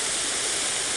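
A waterfall at Cachoeira do Sol in Pinhalzinho, a steady, dense rushing roar of falling water close by with no pauses.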